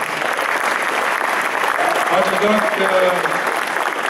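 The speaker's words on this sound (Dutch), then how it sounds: "even een applaus voor Benno Hofman" An audience at a university anniversary ceremony claps steadily, a broad continuous patter of many hands in a large hall, while someone says a few words of thanks over it.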